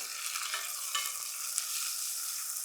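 Chopped tomatoes and fried onion sizzle and get stirred in a hot pan, a steady close hiss with faint scraping, no voices.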